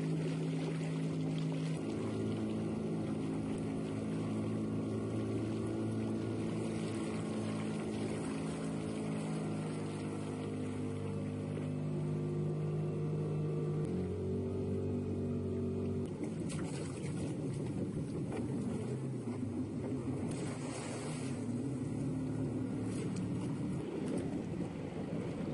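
Fishing boat motoring in a circle around the catch area while setting a beach seine, a steady engine drone under constant wind and water noise that shifts in tone midway, with no voices.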